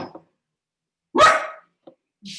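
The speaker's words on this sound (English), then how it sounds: "My dog agreeing." A dog barks indoors, giving one loud, sharp bark that tails off, framed by a few faint short sounds and quiet gaps.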